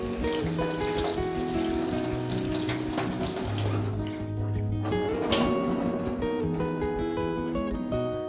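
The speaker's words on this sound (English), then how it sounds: "drain the lentils off, give them another rinse" Lentils rinsed in a sieve under a running kitchen tap, a steady close splash of water with shifting tones as the grains move, continuous throughout with no talking.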